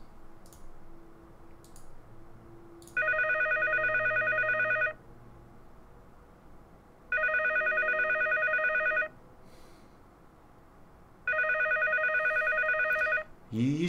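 Incoming Steam call ringtone: three loud, identical electronic ringing bursts, each about two seconds long, spaced evenly with quiet gaps between them, with faint ticking in between.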